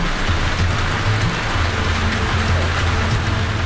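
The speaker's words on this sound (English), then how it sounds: "But the rain makes it hard to see anything." Heavy rain roaring steadily against an airliner on final approach to landing, with a low engine-like rumble underneath, continuous and loud.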